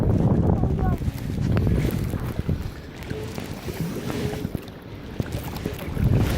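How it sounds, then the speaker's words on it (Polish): Water sloshes and splashes from kayak paddling on a lake, with wind buffeting the microphone, in an uneven paddling rhythm, while a voice talks over it. "to teraz wiosłuję, możemy popłynąć sobie tam, w drugą stronę jeziora"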